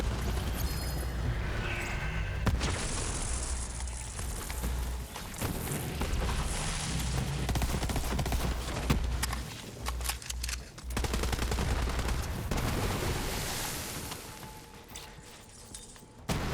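Grenade explosions and rapid gunfire in the shooter video game Borderlands 3, dense and continuous with booming blasts layered over sustained automatic fire, loud throughout with only brief dips.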